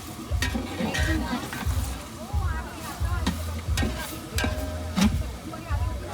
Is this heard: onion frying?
yes